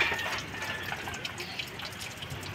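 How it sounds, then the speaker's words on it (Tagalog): Coolant trickles and splashes from a car radiator during flushing, a faint steady liquid patter with small drips, quiet and close. "Lumakas na ngayon yung tagas niya."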